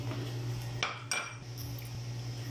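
A spoon scrapes around a bowl, mixing mayonnaise with sandwich-cake ingredients: a couple of distinct, close scraping strokes over a low background hum, with no talking.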